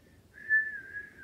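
A person whistles a single sustained note that swells in the middle and fades, with a faint murmur of room noise behind it.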